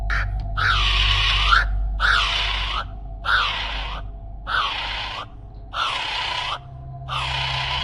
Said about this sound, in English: The kiwi bird.